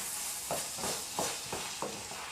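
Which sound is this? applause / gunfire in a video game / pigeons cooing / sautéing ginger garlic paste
sautéing ginger garlic paste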